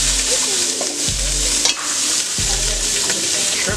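Shrimp frying in very hot oil in a home kitchen pan, a loud, continuous sizzle with stirring clatter and a sharp utensil knock partway through, no talking.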